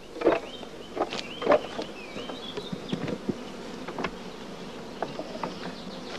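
Honeybees buzzing at a hive, a dense close drone of many wings with individual bees whining past, rising and falling over a few seconds without speech.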